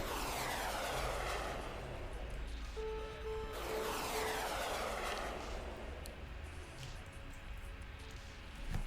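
F-35 jet engines roar steadily in a modern air and naval combat simulation game, a continuous loud broadband rumble with sweeping whooshing tones as aircraft pass, sustained throughout with no talk.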